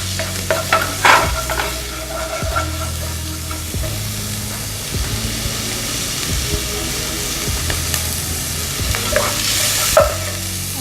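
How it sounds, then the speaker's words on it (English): One finely chopped purple onion sautés in a wok for buttery curry chicken, a steady loud sizzle broken by repeated scraping strokes of a spatula stirring the pieces, close and continuous with no talk. "with the same wok, we are going to saute the onion"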